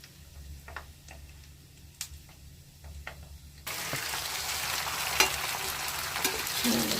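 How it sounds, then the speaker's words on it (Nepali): Cumin and carom seeds fry in hot oil, starting with scattered sharp pops and crackles over a quiet hum, then breaking into a louder, steady sizzle. "जीरा और अजवाइन सबै फुटाइसकेँ।"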